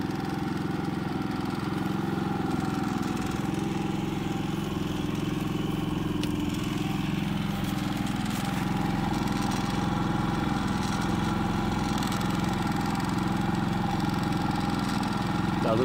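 A Harbor Freight Predator generator engine, 3500 or 4375 model, runs steadily nearby with a continuous mid-pitched droning hum and no change in speed, no talking.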